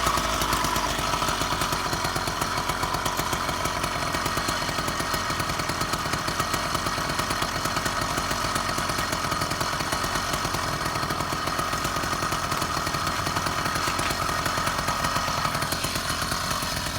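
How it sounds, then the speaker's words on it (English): A Roadmaster Granite Peak motorized bicycle engine, already warmed up, runs outdoors at a park with a loud, steady, buzzy two-stroke putter that holds throughout without a break. "I'm gonna try to kick start it real quick and see if I can get it to start like that."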